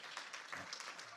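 A small audience claps at an interview event, a brief, faint, even patter of many hands with no voices over it.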